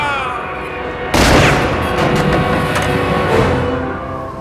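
Gunfire in the 1998 horror film Bride of Chucky, a sudden loud burst of shots and booms with a sharp onset, followed by a dense, sustained crackling barrage under a music-heavy soundtrack.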